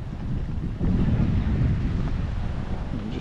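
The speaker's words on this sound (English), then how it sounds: "It's quite breezy and it feels as though it's blowing from the south actually." A breezy southerly wind on the beach at Playa de Palma, Mallorca, buffeting the microphone as a steady low rumble, with surf washing faintly underneath.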